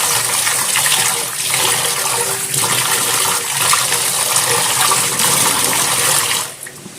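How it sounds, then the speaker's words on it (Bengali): Water draining from freshly washed jute leaves (pat shak) pours in a steady, loud, splashing stream that runs continuously and then stops abruptly near the end. "শাকটা ভালো করে ধুয়ে ধীরে ধীরে জলটা ঝরিয়ে নেব।"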